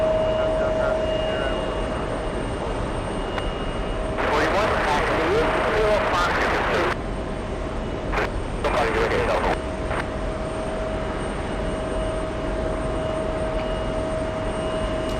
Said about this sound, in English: CRJ flying in from Buffalo, New York.